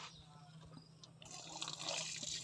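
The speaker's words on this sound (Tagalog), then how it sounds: "Anong laman ito? Tubig ng ulan." Rainwater drips and splashes close by, a faint trickling and liquid spatter that grows slightly busier toward the end, with no voices.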